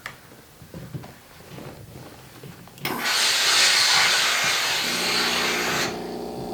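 A Rowenta steam iron presses stretchy polyester spandex fabric: quiet handling and shuffling, then a loud, sustained steam hiss that lasts about three seconds before cutting back to a lower background.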